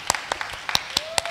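A church congregation claps for God: a handful of sharp, separate hand claps spaced unevenly across a short moment, moderately close, with a faint tone held underneath.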